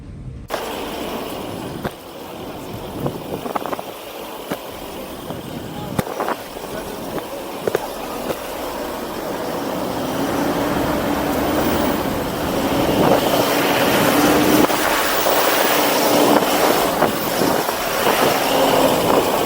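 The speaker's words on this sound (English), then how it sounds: "This 165 kilowatts turbo diesel engine roars in these sandy roads" A 165-kilowatt turbo diesel engine in a Toyota Hilux GR Sport pickup roars and strains through thick sand in Namibia, revving louder over time with rattling and thumps and no voices.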